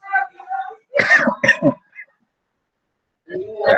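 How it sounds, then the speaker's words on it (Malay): A short cough breaks up a teacher's online physics lesson, standing between bits of nearby speech, brief and close to the microphone. "Batuk sikit."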